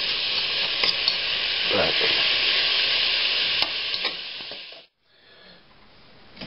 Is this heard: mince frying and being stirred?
yes